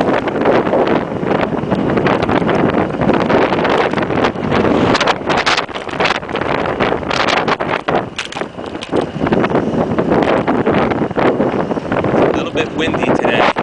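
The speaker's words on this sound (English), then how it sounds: "Windy today." Strong, constant wind roaring and buffeting the microphone throughout during an e-bike ride in New York City, loud and close, with gusts rising and falling.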